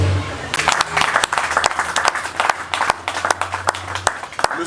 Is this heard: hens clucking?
no